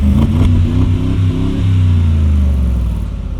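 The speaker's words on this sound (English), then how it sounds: "Not just any biturbo V8, a Mercedes-Benz 4-liter V8." A Mercedes-Benz G63 AMG with a 4-liter biturbo V8 revs loudly up close, deep rumbling bursts rising and falling over a few seconds, heard alone without talk.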